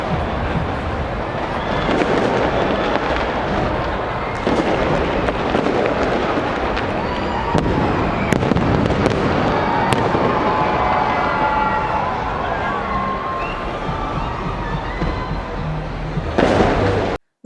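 New Year 2023 fireworks in New Zealand crackle and boom continuously, dense overlapping bursts and sharp pops layered over a constant roar of distant explosions.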